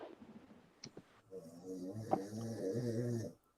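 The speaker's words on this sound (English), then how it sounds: "I am really sorry if you guys can hear my husband snoring in the background." A man snores in the background with one long, rasping, nasal snore after a few soft clicks, moderately loud and with no talk over it.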